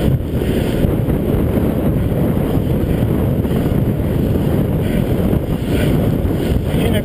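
A cross headwind roars against the microphone while cycling a Cannondale F4000SL bike, filmed with a GoPro Hero HD. The wind noise is loud, close and continuous, buffeting steadily throughout without any talk.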